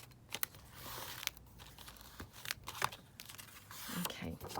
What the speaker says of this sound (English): let me just bone folder that down